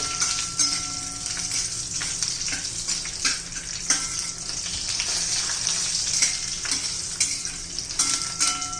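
Lentils frying in ghee for coconut laddoos give a steady, close sizzle with occasional stirring scrapes, continuous throughout and without talk.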